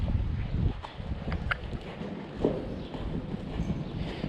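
A grey colt's hooves thud and clop at an uneven walking rhythm nearby, with light wind noise around them.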